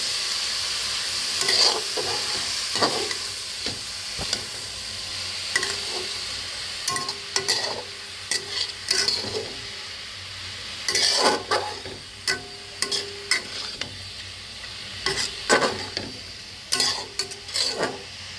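Red amaranth leaves fry with garlic in a pan, a soft steady sizzle broken by repeated scraping stirs and occasional clinks of a utensil against the pan, close and without talk.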